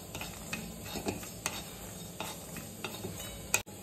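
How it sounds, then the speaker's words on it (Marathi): Peanuts, cumin, garlic and dried coconut roast in a dry pan for garlic chutney, stirred with quiet scraping and light clinks over a faint sizzle, ending in a brief louder knock. "आता आपण या जो खोबऱ्याचा खेस घेतला होता तो आपण याच्यासोबत परतून घ्यायचा आहे।"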